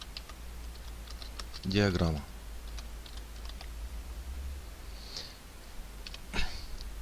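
Fingers typing arbitrary text on a computer keyboard, a run of quick soft key clicks heard under someone speaking in Bulgarian.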